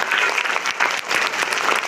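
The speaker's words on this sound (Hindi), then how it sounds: "अपने मम्मी पापा के लिए तालियां बजा दो।" A group of children applauds their parents at a youth group gathering, steady dense clapping throughout with a slight dip midway, close and lively.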